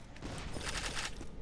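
Rapid gunfire from the video game Borderlands 2 crackles in a dense, continuous volley, loud and close throughout.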